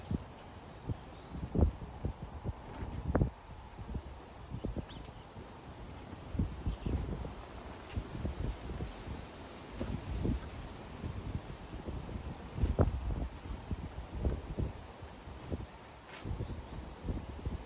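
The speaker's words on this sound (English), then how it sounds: "Got some real strong gusts coming in." Strong wind gusts of 40-50 mph at a lakeside fishing spot, buffeting and rustling in uneven bursts with scattered sharp thumps and crackles, steady and fairly close.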